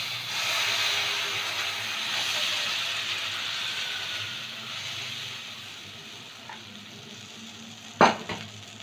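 Chitoi pitha batter sizzling in a hot pan, a steady soft hiss of frying throughout with a brief clatter near the end, no talking.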